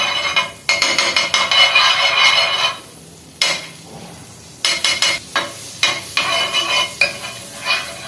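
Butter sizzles and crackles in a hot pan on a gas stove while a buttered corn sandwich cooks, a close, bright hiss in repeated bursts broken by short pauses and spatula scrapes.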